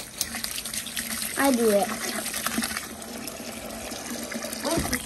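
Tap water running into a bucket, a steady gushing flow throughout with people talking over it.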